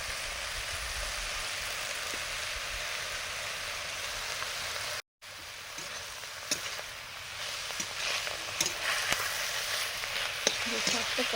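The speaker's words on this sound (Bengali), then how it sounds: "শাক ভাজা হয়ে গেছে, নামিয়ে নিয়ে চলে এসেছি কড়া সহ" Tender young leafy greens (saag) with turmeric fry in a karai, giving a constant close sizzle that drops out for an instant, then resumes with scattered stirring clicks and pops.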